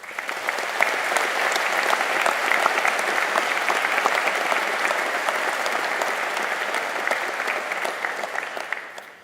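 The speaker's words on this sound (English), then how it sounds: "let's give them a big round of applause" Graduation ceremony audience at Liverpool University giving a long, steady round of applause, dense clapping sustained evenly before tapering at the very end.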